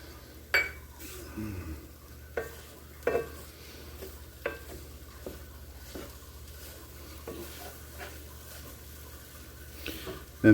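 Scrambled omelette eggs cook in a pan as cheese melts in. A soft sizzle runs underneath while a spatula scrapes and clinks against the pan at irregular intervals, close by and with no talking.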